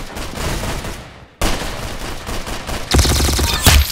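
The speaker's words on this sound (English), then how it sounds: "Very good shooting." Gunfire in a shooting video game sounds as dense rapid bursts, loud and close, with a brief pause partway through and a heavier, booming volley near the end, no talk.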